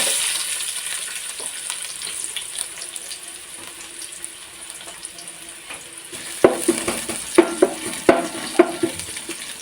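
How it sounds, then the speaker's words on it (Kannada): Ginger and onion frying in hot oil, a steady hiss with a burst of louder crackles and stirring clatter near the end. "ಎಣ್ಣೆ ಬಿಸಿಯಾದ ನಂತರ ಇಲ್ಲಿ ನಾನು ಜಿಂಜರನ್ನು ಹಾಕ್ತಾ ಇದ್ದೇನೆ ಈಗ ಈರುಳ್ಳಿಯನ್ನು ಹಾಕ್ತಾ ಇದ್ದೇನೆ"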